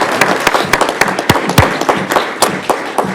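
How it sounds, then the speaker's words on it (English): Council meeting audience applauding, a sparse and uneven run of sharp close hand claps from a small crowd lasting a few seconds without talk. "Let's give them a round of applause for being on our"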